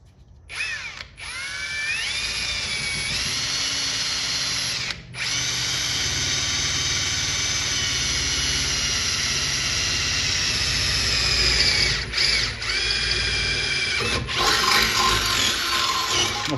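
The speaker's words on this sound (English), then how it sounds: "So I'm just gonna drill a hole rather than a slot" A power drill bores a hole through an arcade cabinet's lower bezel piece, whining steadily for about fifteen seconds with two brief pauses and a final rougher burst.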